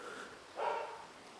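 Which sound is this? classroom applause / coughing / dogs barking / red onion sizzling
dogs barking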